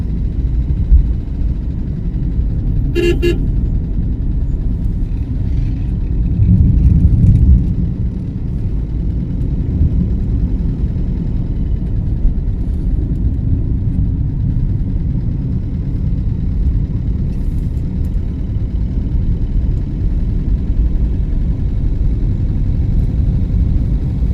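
A car drives steadily through cardamom and tea plantations between a house and farmland on the Munnar to Thekkady road in Kerala, its engine a continuous low rumble throughout with a brief ticking sound early on.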